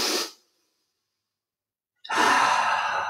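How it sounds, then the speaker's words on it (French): Pilates lateral thoracic breathing: a strong breath sound at the start and another sustained, loud exhale or inhale after a silent pause, close to the listener. "Respiration latérale, thoracique."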